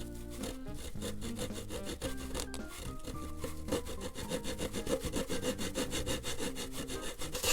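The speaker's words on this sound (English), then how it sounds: "use the balsa for the wingtip as a sort of a guide. And just carefully trim this off to match." A blade saws back and forth to trim a balsa wood wingtip on a vintage Barnstormer 25S RC plane. The close, raspy strokes come in a steady rhythm throughout and speed up slightly toward the end.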